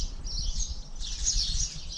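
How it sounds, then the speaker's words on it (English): Birds sing over farm countryside in Sardinia, faint high chirps in two clustered bursts against a low rumbling background, heard from a distance with no talking. "And all you can hear is the birds."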